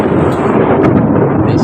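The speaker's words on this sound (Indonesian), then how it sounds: "Bapak memang yang namanya petir itu suaranya begitu itu." Loud thunder booms in a short, continuous heavy rumble with a sharp crack partway through, filling the whole moment without speech.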